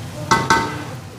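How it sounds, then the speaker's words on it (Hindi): Garlic and ginger fry in a pan. Two quick spatula strokes scrape through the mix over a low, steady sizzle. "लहसुन अदरक को अच्छे तरीके से मिक्स कर लिया है और थोड़ा सा भून रहे भी हैं इसे"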